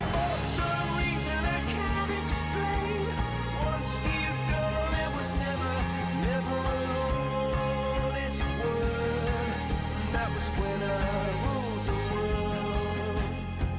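Playing forwards: a steady full-band excerpt with driving strings, percussion hits and vocals, continuous and even in loudness throughout, with no talking over it.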